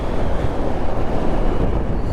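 A FVKING E6 (EKX E6) electric dirt bike accelerating hard under throttle, heard as a steady, loud, rushing roar of motion and wind that holds for about two seconds with no talking.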